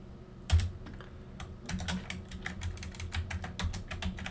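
Quick keystrokes on a computer keyboard while entering router configuration, a close run of light clicks with brief pauses and no talking.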